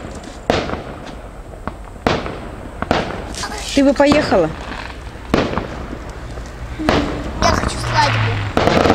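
Fireworks salute at an evening celebration in Ust-Labinsk: sharp booms and crackling bursts recur every second or two at moderate distance, while people talk nearby over them.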